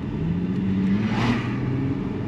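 A supercharged Audi S5 engine held at around 3000 rpm, a steady mid-pitched hum and whir with a slight rise in revs midway, continuous and fairly close, with no voices.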